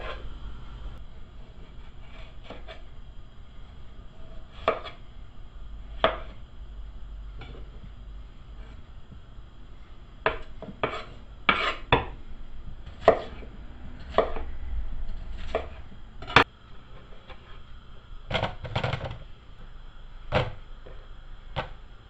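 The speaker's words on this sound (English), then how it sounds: "just get them peeled and cut them into halves or quarters because these are quite big" A knife chops through large peeled potatoes on a board, cutting them into halves or quarters, with sharp irregular knocks spaced across the clip and quiet kitchen handling noise between them.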